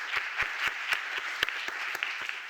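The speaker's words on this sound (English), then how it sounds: "So please join me in giving them a warm round of applause." Conference audience applauding the organizers, sparse clapping with a few distinct sharp claps standing out over a soft, thin layer of hands, fairly quiet.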